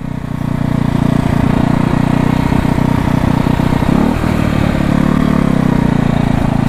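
A 1968 Harley-Davidson motorcycle, running for the first time in over 30 years, roars loudly and steadily close by, its engine pitch shifting partway through as it revs around 3,000 RPM.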